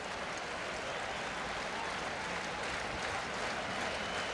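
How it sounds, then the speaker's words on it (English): A large baseball crowd at Yankee Stadium during a 1983 game roars in a dense, steady wash of cheering and applause, sustained and even for the whole stretch with no talk over it. "Listen to this crowd."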